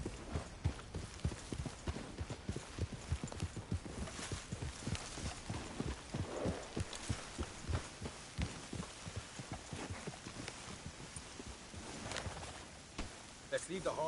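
Horse hooves clip-clop steadily in a western video game as riders travel along a road, a rapid rhythmic thudding that continues with some variation in pace, and people's voices are heard over it.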